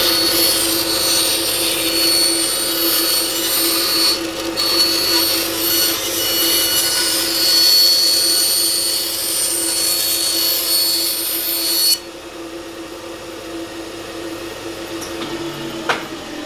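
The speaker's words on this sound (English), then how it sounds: "Using the workshop's bandsaw with the larger blade, we could cut larger pieces of material" A workshop bandsaw, fitted with a larger blade, runs loud and steady through a piece of material, its high whine and cutting noise holding for about twelve seconds before the cut ends and the machine idles down with a quieter hum.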